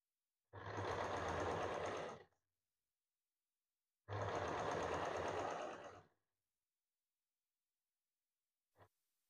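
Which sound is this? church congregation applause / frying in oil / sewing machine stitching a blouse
sewing machine stitching a blouse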